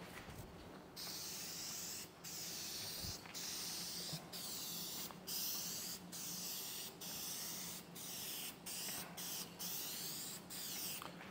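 Spray paint hisses onto a panel in repeated bursts of roughly a second each, separated by brief pauses, close and fairly loud with a bright, airy texture.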